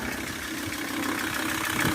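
A VW T4 diesel van engine idles after a new diesel pump belt and valve cover gasket, a steady close rumbling clatter holding even throughout.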